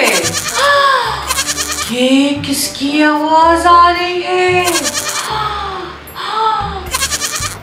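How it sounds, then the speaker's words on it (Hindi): A goat bleats loudly in several separate wavering cries, close and clear, alternating with a voice speaking between the calls. "ये तो एक बकरी है। बकरी को हम इंग्लिश में गोट कहते हैं।"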